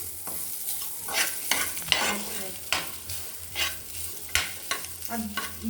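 Grated coconut is roasting and being stirred in a pan for sabudana upma with moong dal. A spoon scrapes in repeated rhythmic strokes over a soft, steady sizzle, close and moderately loud, with no talk.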